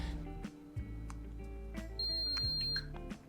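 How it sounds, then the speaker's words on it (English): A short electronic beep from a drip coffee machine signals it has finished brewing, sounding over a low mechanical hum and faint clicks. "Beep means it's done."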